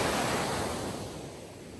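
Sea surf washes in a continuous broadband rush, loud at first and slowly easing, with no voices over it.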